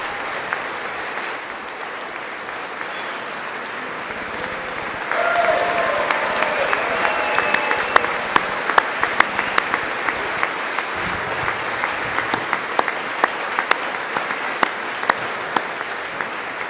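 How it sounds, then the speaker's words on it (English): Sustained audience applause at a State of the Union address with Trump clapping, a steady wash of many hands that swells louder after a few seconds with sharper individual claps standing out, continuing throughout. "The sound of Trump's clapping."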